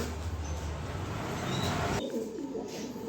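A pair of red Lahori pigeons coos softly against a steady background hiss, with the calls low and close.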